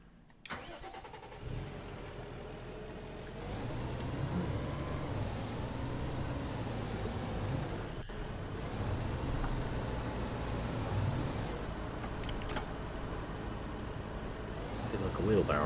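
A tractor engine in the farming video game Pure Farming 2018 runs steadily at a mid-pitched idle, rising slightly in revs partway through and holding a continuous drone throughout.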